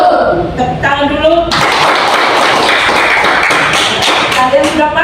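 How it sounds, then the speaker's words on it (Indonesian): A classroom of students claps together after a maths lesson, a burst of dense clapping starting abruptly and continuing steadily, with a teacher's voice and some chatter before it. "tepuk tangan dulu"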